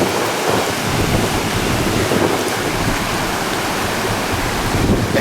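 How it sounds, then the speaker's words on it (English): Ocean surf breaking on a Florida dog beach at New Smyrna, a loud, constant roar of waves with heavy wind buffeting the microphone. "we're gonna try this one more time to go take Brody to the water without our base camp being washed away"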